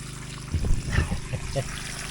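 Water trickles and flows through a pool area during Hurricane Helene, a soft, close stream with a few louder splashy surges.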